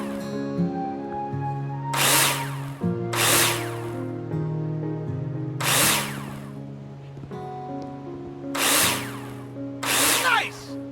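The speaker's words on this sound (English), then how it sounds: "Take your drill out and screw them in." A power drill drives screws through plasterboard into a wall in the game Builder Simulator, five or six short high whirring bursts spaced a second or two apart over a steady background music drone.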